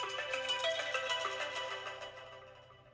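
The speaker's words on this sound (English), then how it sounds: "My phone is ringing." A mobile phone ringtone plays a bright, chiming electronic melody at a low, steady level, alone and without voices, fading slightly toward the end.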